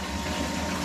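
A pump cleaning a beer keg hums and gurgles steadily, a dense continuous rush of water churning close by.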